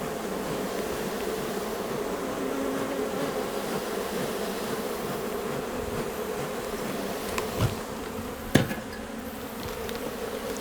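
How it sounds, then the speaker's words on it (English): Honey bees buzz steadily and densely around an open beehive at an outdoor apiary, a continuous close hum with a couple of brief sharp knocks near the end. "Now right on top here, I've got lots of bees, so I'm going to give them a little smoke."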